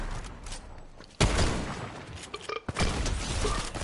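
Gunfire in Fortnite sounds as sharp, loud bursts, with one heavy crack about a second in and another shortly before the end, amid a busy battle din.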